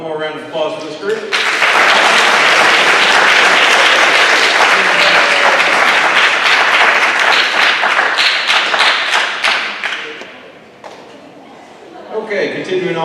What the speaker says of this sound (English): One more round of applause for this group.